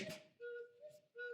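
A cuckoo clock's two-whistle cuckoo call, high then lower, sounding twice in a row, clear and fairly quiet with no voices.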